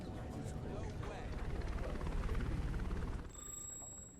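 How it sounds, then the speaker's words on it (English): Helicopter arriving in the video game Inworld Origins, a steady broadband rotor and engine rumble that grows slightly louder, then drops back a little near the end as a thin electronic tone appears. "have you noticed the helicopter that just arrived?"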